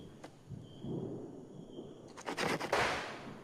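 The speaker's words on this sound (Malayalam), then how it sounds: "ചൈനീസ് പടക്കം." Chinese firecrackers set off for Vishu: one early pop, then a fairly faint cluster of sharp crackling bursts near the end.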